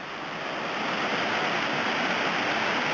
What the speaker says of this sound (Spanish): ¿Cómo baja el río, eh?